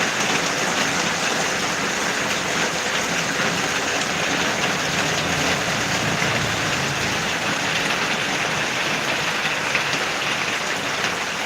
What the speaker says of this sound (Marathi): तर हा बघा पाऊसच पाऊस